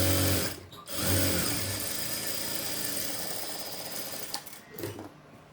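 A sewing machine runs steadily, stitching a folded frill edge in a tailoring setting. The rapid mechanical whir is close and continuous, with a brief pause near the start and a few soft knocks toward the end.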